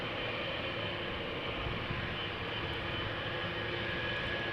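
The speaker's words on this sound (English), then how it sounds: "We're going to see a heavy take off from right in front of us" A KLM Boeing 777-200ER jet taking off at Amsterdam gives a steady, broadband engine roar that holds constant throughout, heard from close to the runway.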